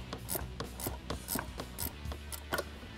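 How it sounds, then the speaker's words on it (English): A 14 millimeter ratcheting wrench tightens the top shock nut on a Jeep Wrangler JK during a suspension lift install, giving a close run of quick, rhythmic clicking strokes in short bursts. "tighten down the top shock nut with a 14 millimeter ratcheting wrench"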